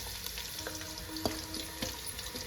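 Sliced onions and a bay leaf fry in a kadai of hot oil. The sizzle is quiet and steady, with a few soft clicks and stirring sounds scattered through it.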